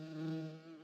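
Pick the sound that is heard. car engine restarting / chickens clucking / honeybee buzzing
honeybee buzzing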